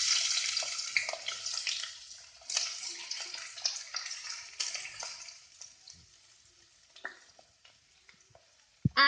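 Onions hitting hot oil in a pan give a soft, steady hiss and crackle that slowly fades, with occasional light clinks and stirring, and no voices over it.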